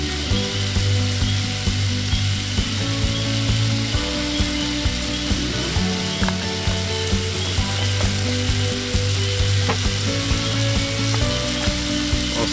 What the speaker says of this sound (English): That steak gets done cooking.